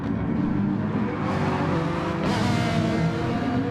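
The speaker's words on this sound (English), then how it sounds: "Seriously, I could listen to that Ferrari all day long. What a glorious sounding car." A Ferrari race car in a racing video game at the Nürburgring GP circuit, its engine droning steadily and loudly throughout, with rising revs and gear-change surges as it accelerates.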